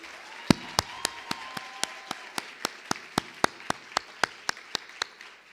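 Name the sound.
audience applauding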